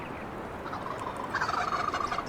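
A wild turkey gobbles in a turkey hunting video game, a rattling, fluttering call, moderately distant and fairly quiet, rising in the second half over a steady outdoor ambience.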